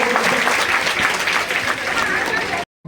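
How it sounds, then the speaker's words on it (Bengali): An audience at a local health-centre function gives a burst of loud, dense applause, steady clapping that continues for a few seconds before cutting off abruptly. "তাই আর একবার জোরে করতালি দেবো"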